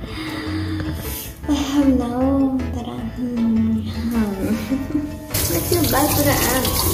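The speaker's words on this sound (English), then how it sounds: "So I'm gonna clean this mug." Tap water runs steadily into a sink while a coffee mug is washed, splashing throughout with a louder gush near the end, under a person talking.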